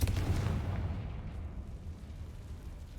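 A Confringo blasting spell bursts in Hogwarts Legacy, a loud low boom at the start that rolls off into a rumbling decay over a few seconds.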